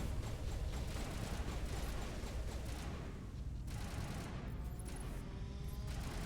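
Sustained gunfire in the Mass Effect video game, a dense continuous barrage of shots and booms that stays loud throughout with a brief dip partway before resuming.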